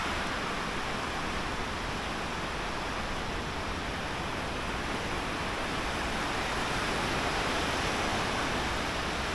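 Ocean surf at Usami Beach on the Izu coast, where the waves draw surfers, rolls in as a loud, unbroken wash of white noise with no distinct breaks and no voices.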